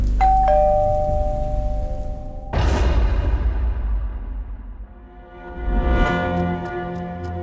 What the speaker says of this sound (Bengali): তারপর বেজে উঠল কলিং বেলটা।